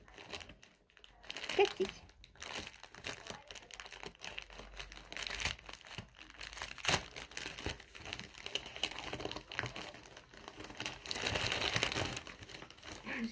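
Cardboard and plastic packaging of an Advent calendar crinkles and tears in busy, irregular bursts close by, with a brief spoken name partway through.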